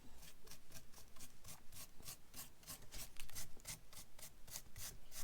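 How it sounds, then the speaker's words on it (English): A dry paintbrush is worked over a textured paper mache bat in quick, rhythmic scratchy strokes, quiet and close, with no talking. "when you're dry brushing, best thing to do is just let your brush"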